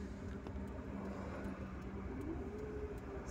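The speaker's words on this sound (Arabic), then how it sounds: "سمعنا النغمة تاع لاكسيليغاتور، السيارة تاعنا راهي تتحرك من المكان تاعها" A car in a driving lesson accelerates away from its spot onto the road, a steady low engine hum with a faint tone rising toward the end, fairly quiet and continuous.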